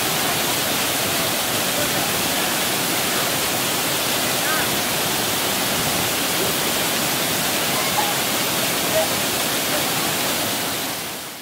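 Thiruparappu waterfall in Kanyakumari, running at high flow, pours as a dense, steady roar of rushing water that fills the whole stretch evenly without pause.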